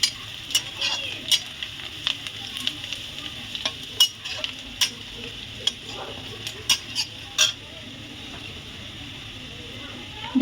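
Chopped onion frying in a pan during preparation of a thin red country-chicken curry, with a steady soft sizzle under repeated sharp clicks and scrapes of a stirring utensil against the pan; no talking.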